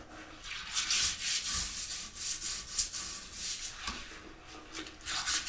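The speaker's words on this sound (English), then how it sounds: "I'm going to scrub the edges of the toilet bowl" A wet brush scrubbing the edges of a toilet bowl, with repeated rough bristle strokes in a quick, uneven back-and-forth rhythm, close and fairly loud.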